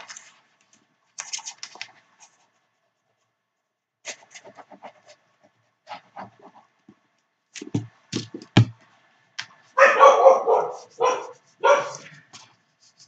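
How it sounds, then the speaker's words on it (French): A dog barks indoors in a series of short, sharp yaps, sparse at first and then clustering into a louder, denser burst of barking near the end, separated by quiet pauses. "Ça, c'est ma chienne qui aboie."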